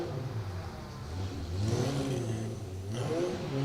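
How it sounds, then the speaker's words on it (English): A Peugeot 205 rally car on a forest stage at the Woodpecker Stages Rally roars past with a loud, noisy engine, revs rising and falling steadily throughout, close and alone with no talk. "very noisy sounding Peugeot 205"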